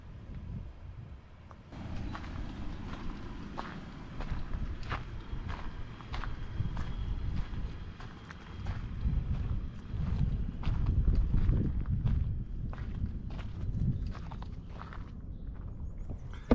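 Footsteps circling a new Ford F-150 pickup truck outdoors, a steady run of close, crisp steps continuing throughout.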